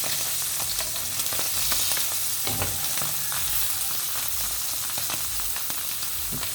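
Smoked fish frying in hot oil for a home breakfast, a steady loud sizzle with dense crackling and popping splatters throughout, close up with no talk.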